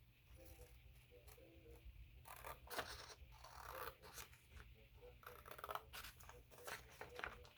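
Scissors snip and scrape through paper for a Halloween junk journal purse, a series of close, faint crisp cuts and rustles over a low steady heater hum.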